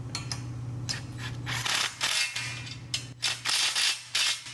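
An impact wrench with a 1/2-inch socket tightens bolts on a commercial Christmas light tunnel frame, firing in several loud, rattling bursts of a second or less over a low steady hum.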